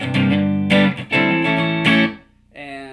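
Electric guitar played through a Peavey Invective amp head in 5-watt mode, chords struck in short bursts with sustained harmonic ring between, loud and near, a brief drop to quiet before a final strum.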